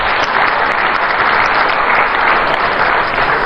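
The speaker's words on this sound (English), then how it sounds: "I think it's important that we give him a round of applause," A crowd at a speech in Accra breaks into loud, continuous applause, a thick unbroken roar of clapping close and steady throughout.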